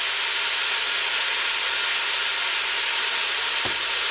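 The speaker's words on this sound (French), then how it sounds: "Là on mélange." Harira soup cooking in a pot gives a steady, loud sizzling hiss that continues throughout, with a single faint knock near the end.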